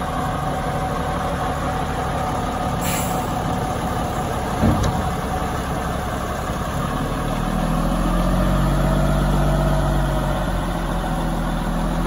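A 1987 Kenworth truck engine idling nearby with a steady low rumble, a brief knock partway through, and the drone deepening and growing louder toward the end.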